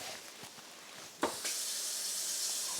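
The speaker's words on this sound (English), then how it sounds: "let's turn the water supply back on" Water surges back through the supply line when it is turned on for an R/O filtration unit, a sharp burst followed by a steady, close hiss of running water from the tap.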